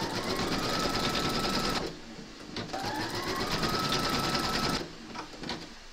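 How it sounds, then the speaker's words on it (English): A home embroidery machine stitches a cuddly penguin design held in the hoop, giving a steady, fast mechanical whirr. It runs loud and continuous, breaks off in two short pauses, then resumes with no talking. "Pop your hoop into your machine and stitch round number 2 to secure it."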